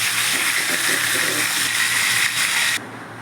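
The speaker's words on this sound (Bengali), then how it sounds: "কড়াইতে তেল বসিয়ে দিয়েছি মাছটাকে নুন হলুদ মাখিয়ে প্রথমে একটু ভেজে নেব" Bhola fish rubbed with salt and turmeric fries in hot oil in a wok, giving a loud, steady close sizzle that cuts off abruptly near the end.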